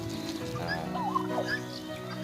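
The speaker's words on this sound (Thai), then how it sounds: "นี่ครับไก่งวงเขากินดีนะครับ สำหรับชมพู่นะครับ" Farm turkeys gobble while pecking at rose apples, a short burst of warbling gobbles from close by over a busy background of fowl sounds.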